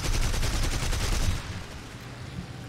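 Bf109 aircraft cannon and machine guns in War Thunder fire a rapid, loud burst for about a second and a half, then it cuts off, leaving engine drone.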